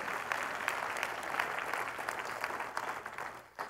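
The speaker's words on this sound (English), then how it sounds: "Can we give God a hand clap for that?" A church congregation claps its hands together in a dense, steady burst of applause that keeps going for several seconds and then fades out near the end, with no voices heard.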